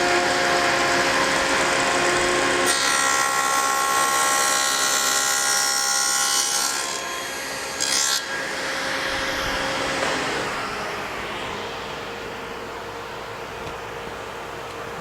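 SawStop table saw cutting the ends of wooden pedestal pieces: a loud, steady high-pitched whine during the cut, followed by the blade gradually winding down.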